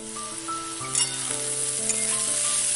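Spices fry in a pan while making vegetable chop, giving a loud, close, continuous sizzle with crackles. Steady tonal sounds run underneath throughout, and no one talks.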